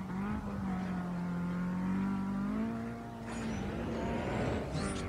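Nissan S15 in Need For Speed Undercover, its engine holding a steady droning note that rises slightly while sliding, loud and close, with a brief tire hiss near the end.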